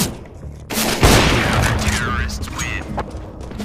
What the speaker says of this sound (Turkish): az önce bana mı sıktı lan?